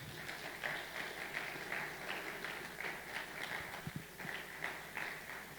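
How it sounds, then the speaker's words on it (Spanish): A church congregation claps together in a sustained, fairly distant round of applause with a steady patter and slight swells, no voices over it. "dale un fuerte aplauso al Señor"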